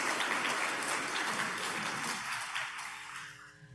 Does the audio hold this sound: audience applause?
yes